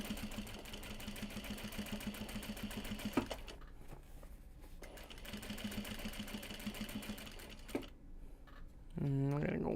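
A sewing machine stitches a bag upcycled from kimono and obi fabric in rapid, steady mechanical runs, pausing twice briefly before a last slow hand-cranked stitch, with quiet talk over the top.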